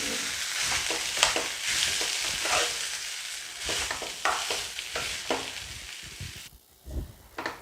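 A spoon stirs vada pav filling, salted, as it fries in a pan. Loud, irregular scraping strokes cut across a steady sizzle, and the stirring breaks off briefly near the end.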